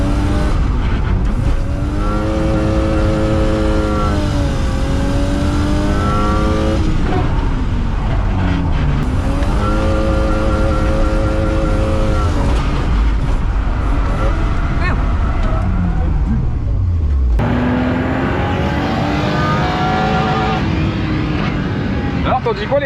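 BMW E30 drifting, its engine revving hard with rising and falling harmonic sweeps, tyre squeal and loud sustained roar through most of the stretch, a brief drop near the end before revving again.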